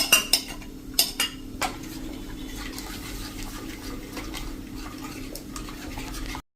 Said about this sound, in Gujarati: તો કન્ટિન્યુ આ રીતે તમારે દહીં નાખી અને ચલાવતા રહેવાનું.